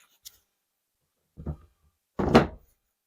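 Storage compartment lids in a tiny cabin built from reclaimed and upcycled materials flip up with a soft tick and two hollow wooden thunks, close and isolated in a quiet room.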